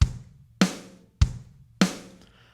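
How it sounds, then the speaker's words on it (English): A simple programmed drum beat in Logic Pro X: four sharp hits alternating a deep kick and a bright snare on 2 and 4, evenly spaced and clean with quick decays. "So I'm going to create just a basic rock or country beat"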